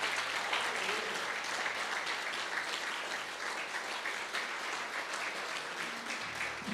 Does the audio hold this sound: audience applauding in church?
yes